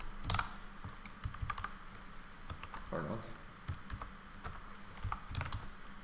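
Keys clatter on a new computer keyboard in a steady run of close, crisp clicks, with brief talk over the typing.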